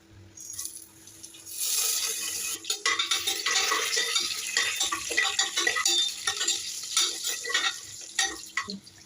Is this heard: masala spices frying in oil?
yes